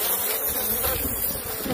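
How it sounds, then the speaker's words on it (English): A swarm of killer bees buzzing up close, a loud, dense, continuous drone with no voices over it. "Keep an eye out for bees inside your nest."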